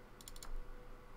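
A computer mouse double-clicks while working in Cinema 4D, giving two quick pairs of faint, close clicks over a quiet background.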